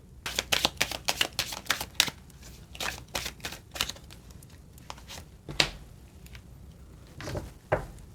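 Tarot cards being shuffled and drawn, a rapid burst of crisp card snaps and riffles, then sparser flicks and slaps as cards come off the deck, close and quiet with no talk.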